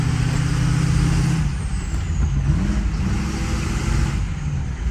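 A Ford 6.0 diesel pickup with a lack-of-power fault labours up a driveway. Its loud, close engine drone shifts in pitch as it climbs, over a hiss of air and road noise, with no talking.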